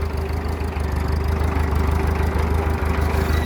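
Diesel digging machine engine running steadily in first gear while dragging earth, a loud continuous low rumble with a steady harmonic drone throughout, no talking.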